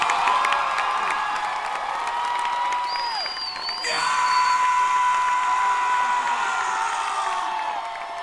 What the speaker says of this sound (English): You may cheer for that as well.